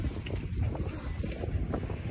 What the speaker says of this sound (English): It is windy today, which makes it feel even colder than 18.